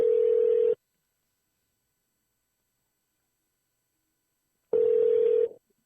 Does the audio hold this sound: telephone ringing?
yes